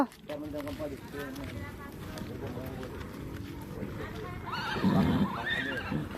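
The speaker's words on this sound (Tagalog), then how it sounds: "Oo, eto na. Eto na yung kabayo." A horse whinnies loudly near the end, heard over a busy background of voices and crowd noise.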